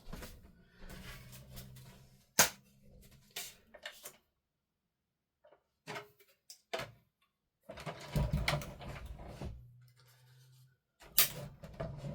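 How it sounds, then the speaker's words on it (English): A die-cutting machine runs paper through in short mechanical whirring and grinding bursts, broken by quiet gaps and clicks of handling. It is close and moderately loud. "So I'm going to put it through dye machine like that."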